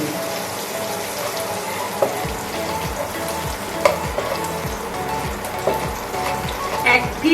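Whole garam masala spices crackling and frying in hot oil for a pickle-style eggplant dish, a steady sizzle with a few sharp pops and stirring clinks nearby.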